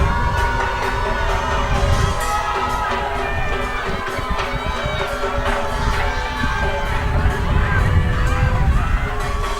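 A football crowd roars and cheers continuously from the grandstand at a PFL match between Dynamic Herb Cebu and Stallion Laguna, a dense, loud wall of voices and shouts with no break.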